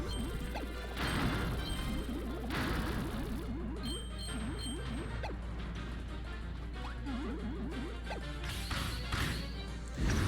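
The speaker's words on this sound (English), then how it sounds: "There is a theoretically endless number of volcanic rocks crashing around you everywhere if you just stand still." Volcanic rocks crash and smash repeatedly in Kirby's Return to Dream Land Deluxe, a steady barrage of game impacts and debris over a continuous rumbling bed, with bright chimes now and then.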